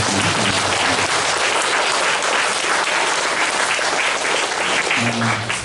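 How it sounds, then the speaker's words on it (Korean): A church congregation at a pastor's inauguration service gives a long burst of loud, steady applause of encouragement, thick continuous clapping filling the room from start to finish. "여러분 격려의 박수를 보내주십니다."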